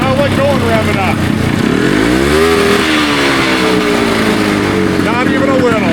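A single-cylinder racing engine revs up loudly with rising and falling pitch sweeps, a rough droning roar throughout, with voices talking underneath.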